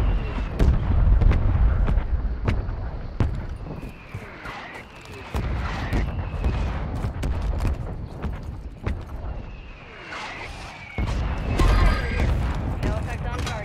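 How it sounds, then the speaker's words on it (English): Mortar strikes in Call of Duty: Warzone, heavy booming blasts and rumbling impacts landing repeatedly over sustained battlefield noise, with sharper cracks scattered throughout. "Mortar support incoming."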